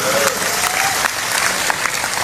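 Dense applause from an audience at an Indonesian Islamic religious lecture, a steady broadband clatter of many hands clapping throughout, with a faint voice briefly audible beneath.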